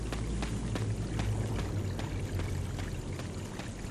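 Water splashes underfoot in Resident Evil HD on PS4, a forest setting, with soft rhythmic footstep splashes over a steady watery wash and low rumble.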